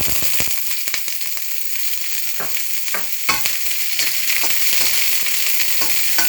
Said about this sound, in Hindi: सबसे पहले मैं आधा प्याज जो मैंने लिया था वो इसके बीच में ऐड करूँगा